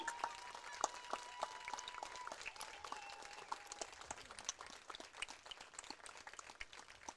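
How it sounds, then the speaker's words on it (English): A crowd applauds steadily at a school senior night for student athletes, with dense clapping and scattered louder claps over a background of cheering voices at moderate volume. "please stand and give a round of applause to these incredible student athletes"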